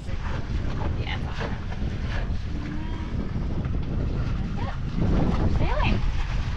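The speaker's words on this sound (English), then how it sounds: "The wind's kicked up a little bit." Sailboat under way toward Dry Tortugas: steady wind buffets the microphone over the constant rush of water along the hull, with people speaking briefly over the noise.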